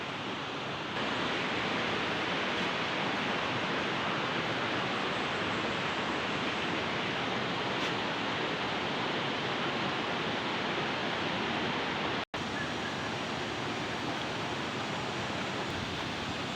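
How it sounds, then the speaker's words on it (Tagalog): Tagbibinta Falls pours in a constant, dense, broadband roar that stays loud and unbroken from start to finish, with no voices over it. "Tagbibinta Falls."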